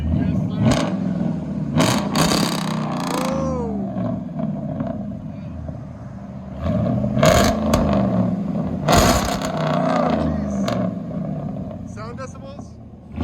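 A RAM 1500 with a 5.7L HEMI and true dual straight-piped exhaust rumbles and revs loudly nearby in rough, surging blasts, with people talking and exclaiming over it.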